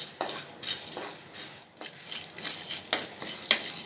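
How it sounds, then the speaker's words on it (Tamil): Pepper, cumin, fenugreek and curry leaves dry roasting in a pan over medium heat for vendhaya kulambu, with soft repeated stirring scrapes and faint crackling, fairly quiet and close. "மிளகு, சீரகம், வெந்தயம், கருவேப்பிலையை வாசனை வர அளவுக்கு வறுத்தாச்சு."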